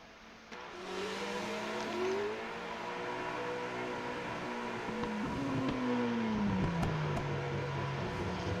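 Race cars perform burnouts in a racing video game, with engines revving up and down in rising and falling whines over a constant rough roar, moderately loud with no talk.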